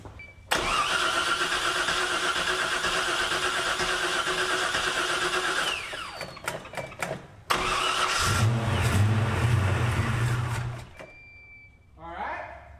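A 1978 Pontiac Firebird engine cranks and catches, roaring loudly, cutting out briefly, then restarting and running rough before stopping, with voices talking nearby.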